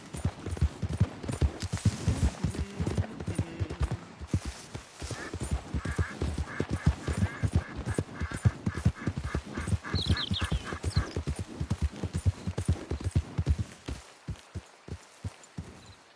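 Horse hooves from the video game Red Dead Redemption 2 beat in a rapid, steady galloping rhythm throughout, loud and close, with a faint whinny partway through and no talking over it.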